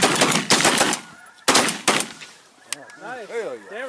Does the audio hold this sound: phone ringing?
no